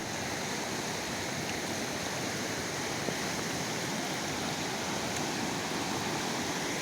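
A river running high after a week of heavy rain, a dense, steady rushing roar of fast water that stays constant and close throughout, with no talk.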